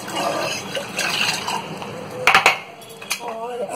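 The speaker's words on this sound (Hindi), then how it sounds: "उसके बाद एक पैन में आपको इसको ट्रांसफर करना है" Water is tipped from one kitchen vessel into a pan, a gentle splashing pour broken by several sharp metallic clinks and clatters of cookware and utensils nearby.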